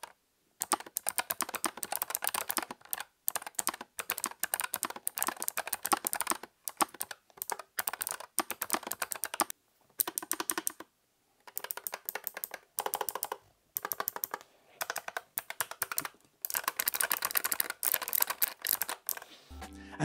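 Rapid, crisp clicking of a low-profile mechanical keyboard with blue switches being typed on, steady bursts of keystrokes with short pauses, close and clear with no talking.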